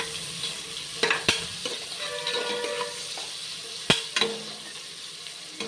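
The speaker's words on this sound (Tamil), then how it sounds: "இப்போது வெங்காயம் இந்த அளவுக்கு நல்லா ஃப்ரை ஆகிருக்கு" Sliced onions sizzle and fry on a high flame for a banana-flower biryani, with steady close crackling broken by a few sharp clanks of a stirring spoon against the pan.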